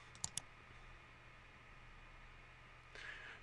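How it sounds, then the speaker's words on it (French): A computer mouse gives a quick pair of faint, crisp clicks near the start, then quiet room hiss and a soft rustle toward the end, with no voices. "Je clique sur la loupe."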